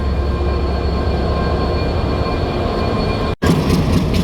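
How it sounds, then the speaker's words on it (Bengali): A passenger train passes at Kamalapur railway station in Dhaka with a steady, loud rumble and hum. The sound holds continuous and close, with a brief dropout near the end, and no voices. "আমাদের সামনে থেকে আরেকটা ট্রেন চলে যাচ্ছে"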